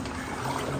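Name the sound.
water flowing in Hezekiah's Tunnel, Jerusalem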